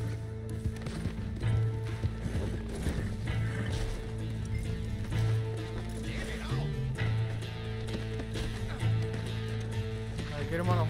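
Horse hooves clip-clop steadily on a road in Red Dead Redemption 2, rhythmic and moderately close, running under ongoing voices talking amid game background sound.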